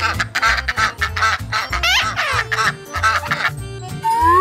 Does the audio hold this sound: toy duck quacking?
yes